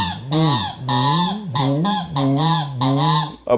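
A human voice imitates the night call of the koottan bird with a run of loud, nasal, honking hoots, about five long wavering calls in a rough rhythm, close and alone.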